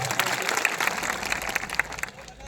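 A crowd at a Thakor community gathering in Gandhinagar claps in a brief, lively burst of applause, fairly dense and close, with voices mixed in.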